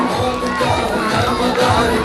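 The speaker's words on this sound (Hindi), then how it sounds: "जोरदार तालियां, जोरदार तालियां" Audience at a school annual function applauding and cheering loudly and steadily, with children's shouts and crowd noise mixed in throughout.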